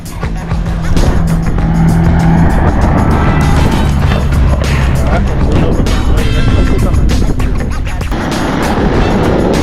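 An Alpine Turbo drives past during a vintage car and motorcycle meet at St Pierre, its loud engine roar sweeping through steadily amid crowd noise and nearby voices.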